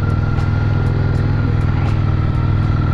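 A Honda Steed Springer motorcycle engine runs through a straight-through exhaust, heard up close as a loud, steady, throbbing idle with a regular pulsing beat and no talk.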